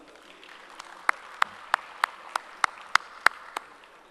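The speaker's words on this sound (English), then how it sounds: "Give a round of applause, please." Applause at a technical session of chartered accountants comes as a sparse, fairly even series of about a dozen sharp claps, each standing out clearly over a faint room murmur.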